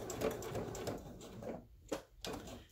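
A sewing machine runs a straight stitch through paper, a close rapid mechanical chatter that stops and restarts briefly near the end.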